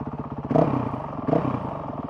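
A Honda CRF 450 RL motorcycle engine idling on a Get SX1 ECU, a loud, close, steady low throb with two brief swells where the idle rises slightly.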